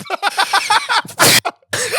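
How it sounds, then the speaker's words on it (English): A sudden loud sneeze bursts out after rapid chatter, followed by more talking close to the mic. "Just sneezed."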